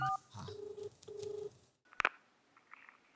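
Several short telephone keypad dialing tones beep in quick succession while a call is placed, followed by a brief click and faint ringing tones, with no talking over them.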